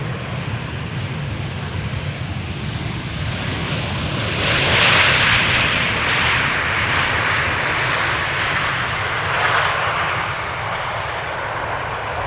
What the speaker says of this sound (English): TRA3H, arriving from Zakynthos in Greece.